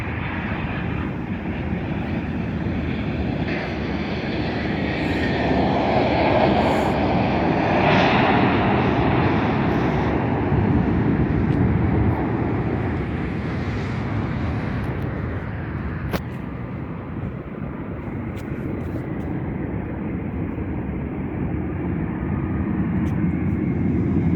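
A continuous loud roar from an Embraer jet airliner at Las Vegas airport, with the engine rumble swelling and holding steady for over twenty seconds, heard alone without speech.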